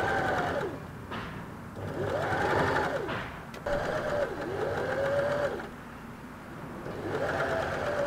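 Sewing machine stitching fabric for wrap pants in bursts, its motor whine rising and falling as the pedal is pressed and eased, with brief pauses between runs, close and steady.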